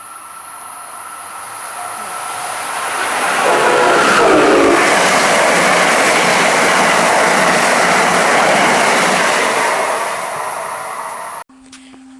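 Commuter train 607 departing Guilford, Connecticut station toward New Haven, a loud roaring rumble with hiss building over several seconds, holding steady as cars pass close by, then cutting off abruptly.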